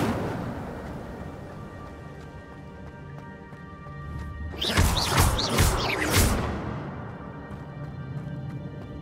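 The Incendio fire spell bursts out in Hogwarts Legacy, a sudden roaring whoosh of flame with crackling bursts rising over a low game ambience, lasting a couple of seconds before fading back to the background.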